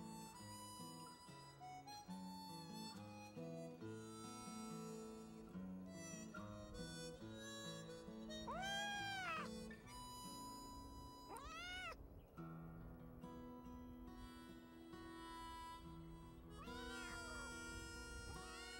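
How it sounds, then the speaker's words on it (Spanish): A small kitten at a lone house near the mountains gives several thin, rising-and-falling meows over a background of soft music. "Escuché algo al acercarme. Sí, era un gatito."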